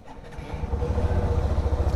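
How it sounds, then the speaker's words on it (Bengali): A Hero Xtreme 125R motorcycle engine fires up and settles into a steady, throbbing low idle, close and fairly loud with no talking. "তাহলে এবার ইঞ্জিনটা অন করা যাক,"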